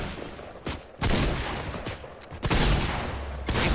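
Rapid burst of gunfire from a Fortnite match, with several loud broadband blasts and shots spaced irregularly across a few seconds, close and dominant with no talking.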